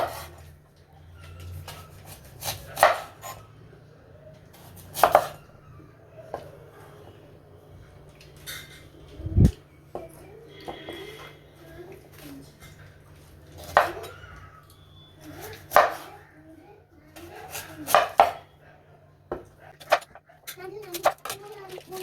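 A knife cuts washed sweet potatoes for halwa, giving scattered sharp knocks and clinks at irregular intervals against a quiet room background. A few louder impacts stand out.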